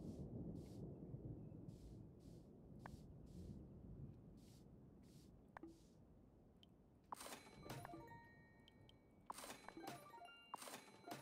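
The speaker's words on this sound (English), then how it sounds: "Stormy weather." A stormy-weather scene in the video game Wylde Flowers: steady rain hiss with sharp thunder cracks, then louder crashing, crackling bursts of storm noise late in the stretch.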